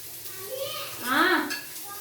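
Curry leaves and coriander frying in a pan, a soft sizzle with stirring and a brief louder swell midway, a voice faintly in the background.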